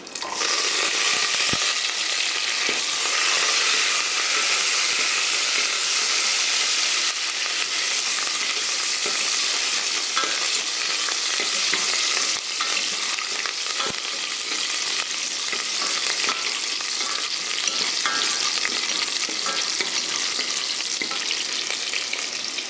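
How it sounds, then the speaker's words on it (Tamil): Dense, steady crackling and sputtering of mustard seeds popping in hot oil, loud and continuous with scattered sharper pops throughout, no voices. "கடுகு வந்து பார்த்திங்கன்னா இந்த மாதிரி சத்தம் வரணும்"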